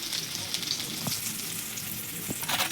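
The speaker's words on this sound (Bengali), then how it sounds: "এই যে রাঁধুনি বেশ বড়া ভাজে সুন্দর করে" Fritters (bora) frying in a pan of oil, a steady close sizzle and crackle with a few soft clinks of stirring, and no talk.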